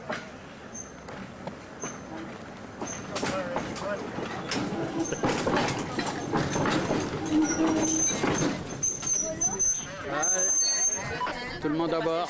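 A small vintage tramway from the 1900s runs at a railway museum with passengers aboard, its wheels and car rumbling steadily under nearly continuous talk and crowd chatter.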